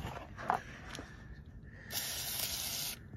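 An aerosol can of Fluid Film undercoating hisses onto the underside of a car at home, with a short puff early on and then a steady spray lasting about a second, close and fairly loud.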